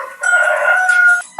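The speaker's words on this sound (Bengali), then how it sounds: "এখান থেকে নানান রকম পাখির ডাক শোনা যায়" A single loud rooster crow rings out close by at a farmhouse, one sustained tonal call lasting about a second.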